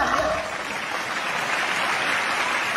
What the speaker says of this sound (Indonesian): Boleh kita berikan tepuk tangan ya.